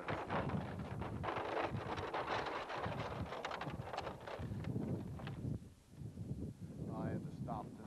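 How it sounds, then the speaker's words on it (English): Wind gusting along a rocky lakeshore, a steady rough roar buffeting the microphone for the whole stretch, easing briefly near the end before rising again. "that wind's blowing"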